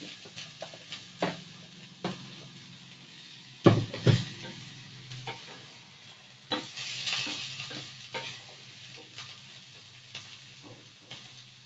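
Chicken, carrots and mixed vegetables stir-fried in a home kitchen pan, with a steady low sizzle broken by repeated scraping stirs and a few sharper clatters of the utensil, close and moderately loud, no talking.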